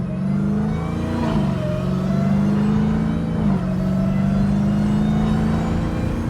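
A Dodge Hellcat drives with a loud, steady engine drone from inside the car, the pitch climbing slightly as it revs and dipping briefly, no talk.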